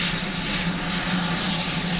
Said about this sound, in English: Dinmore Manor 7820, the first of the double-headed engines, was just pulling onto the turntable